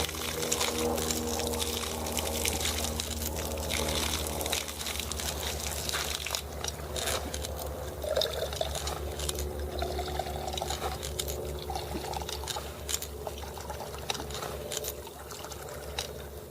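Water pours steadily out of a hand-pumped water purifier filter, a continuous splashing flow with irregular clicks and knocks of the pump mechanism over a low hum, close and fairly loud.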